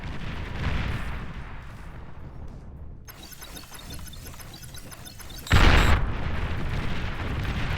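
A commander unit explodes in the real-time strategy game Beyond All Reason during a 1v1 battle on the Death Valley map, a sudden loud blast bursting out of a steady din of battle noise and then trailing off into continued rumbling combat.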